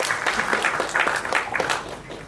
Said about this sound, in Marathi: जोरदार टाळ्या आपण वाजवूया.